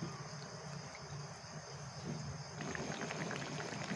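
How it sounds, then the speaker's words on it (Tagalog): A pot of coconut milk stew with eggplant bubbles and simmers quietly, with soft continuous popping and gurgling that grows slightly busier partway through. "Kumukulo na yung ating ginataan."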